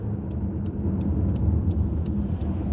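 A car drives past at night with a steady rumble of engine and road noise, punctuated by a regular faint ticking throughout.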